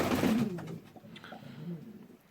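Cock pigeons in a loft giving soft throaty coos, one fuller coo at the start followed by fainter murmuring calls, close and quiet.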